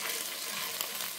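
Garlic paste frying in a hot pan for restaurant-style chicken Manchurian, a steady, dense broadband sizzle with light stirring, close and continuous throughout with no talking.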